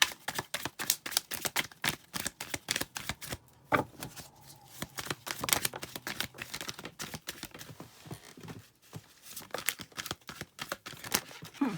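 A deck of oracle cards is shuffled by hand in humid weather, giving fast, rippling riffles and soft slaps in bursts, close and fairly quiet, with no voice.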